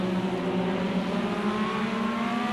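IndyCar race cars in a racing video game lap the Watkins Glen circuit, a steady, dense engine drone with layered high-pitched whines holding loud and continuous throughout.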